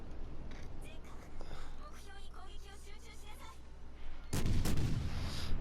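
An HMS Warspite battleship fires a main-gun salvo in World of Warships: a sudden loud booming blast that breaks in after quiet talk and rolls on to the end.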